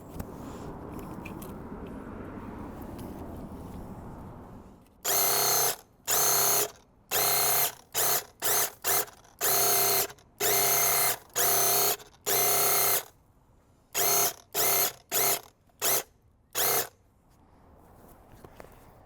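A sprayer lays a light fog coat of stain on brick in a rapid series of loud hissing bursts, some longer and some clipped short, after a quieter outdoor stretch.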